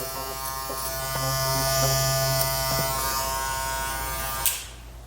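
An electric hair clipper buzzes steadily through a short flat-top cut, a continuous close motorized hum with slight pitch shifts as it moves, fading out abruptly near the end.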